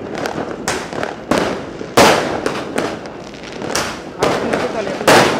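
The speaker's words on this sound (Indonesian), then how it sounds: "Lagi kembang api." Fireworks burst repeatedly over Makassar on New Year's Eve, with loud, sharp cracks at irregular intervals and a dense crackling wash between them, while people nearby talk.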